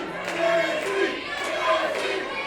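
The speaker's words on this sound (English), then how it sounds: "And you hear the Kelsey chant ringing out here throughout the VFW." A wrestling crowd inside a VFW hall chanting the name Kelsey in rhythmic, echoing repetitions, loud and continuous through the room.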